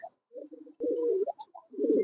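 A pair of Gribas fancy pigeons coo in short, throaty bursts close to the microphone, with a longer rolling coo in the middle and quiet gaps between calls.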